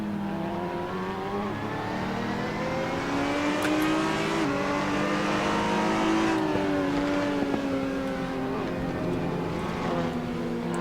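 A race car engine in Assetto Corsa screams at high revs, rising and falling through gear changes, loud and sustained with steady harmonic whine and no talking.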